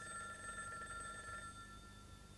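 A telephone rings with a steady electronic tone for over a second, then stops, leaving quiet room noise.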